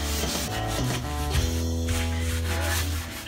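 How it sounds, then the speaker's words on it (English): Bathtub being scrubbed hard, a continuous close rubbing and scraping with a steady rhythm, loud and alone with no voices. "I'm actually scrubbing the shit out of this bathtub."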